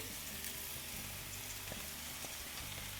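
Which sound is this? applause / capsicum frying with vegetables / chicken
capsicum frying with vegetables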